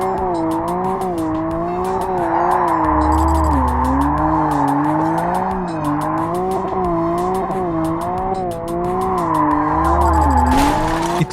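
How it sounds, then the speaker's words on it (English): A car drifting in the VR game Drift Online on Quest 3: a loud, sustained, wavering tire squeal over a droning engine, with rhythmic clicking and brief low thumps, going on without pause. "You need to accelerate and then pressing the brake in order to drift."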